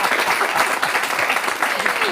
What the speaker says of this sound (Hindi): वैसे इस पे आप ताली बजा सकते थे